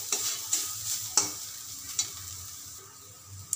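Sliced banana stem (thor) fries in a pan over medium heat with a little salt, a soft sizzle under several sharp stirring scrapes and taps of the spatula, no voices.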